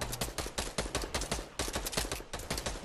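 Rapid bursts of gunfire in a battle royale video game, sharp repeated shots in quick irregular volleys with no talking, fairly close and punchy.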